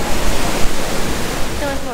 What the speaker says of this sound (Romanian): Deci asta este vârful cascadei.